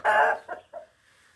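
A chicken in a henhouse lets out a loud squawk followed by two shorter clucks, close by, then fades to quiet.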